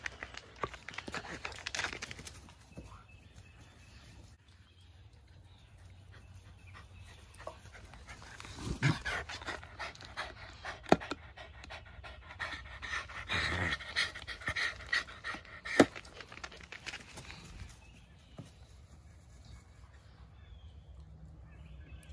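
Dogs pant steadily and fairly quietly nearby for the whole stretch, with occasional shuffling, jingling and rustling movement noises.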